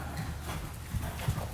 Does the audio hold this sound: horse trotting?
yes